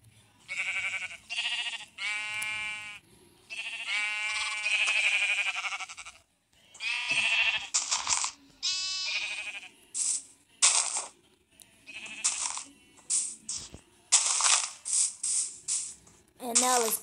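Blocky game sheep in Minecraft Pocket Edition bleat over and over in short, close, fairly loud calls, with a few clicking item sounds between them and no talk.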